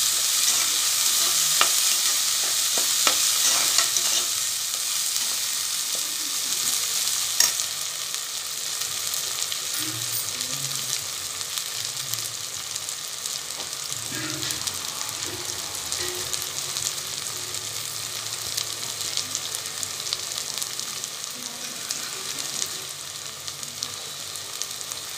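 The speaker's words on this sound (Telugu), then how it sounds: "అల్లం వెల్లుల్లి పేస్ట్ పచ్చి వాసన పోయేంత వరకు ఆగనివ్వాలి మనం" Ginger garlic paste sizzles steadily in a hot pan, a bright continuous frying hiss with occasional stirring scrapes, close and unbroken with no talking.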